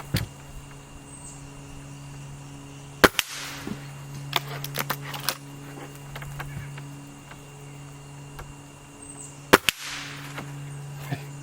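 A Gamo Magnum .22 pellet rifle fires two sharp, loud cracks several seconds apart, each followed by quieter mechanical clicks and handling sounds, outdoors with a steady background hum.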